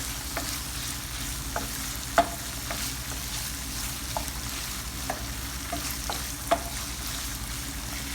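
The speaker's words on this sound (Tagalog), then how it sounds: "Halo-haloin lang natin guys ng maigi" Spoon stirring an eggplant omelette mixture of egg, tuna, tomato and onion leaves in a bowl, soft scrapes and faint taps over a constant hiss, with a few sharper clinks against the side.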